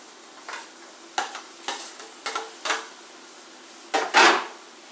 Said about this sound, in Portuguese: Coloque o morango na panela.